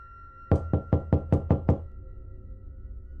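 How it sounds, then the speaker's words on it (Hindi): Knuckles rap on a bedroom door seven times in a quick, even burst, each knock sharp and close. A faint hum continues after the knocking stops. "तभी उनके कमरे के दरवाजे पर कोई दस्तक देता है।"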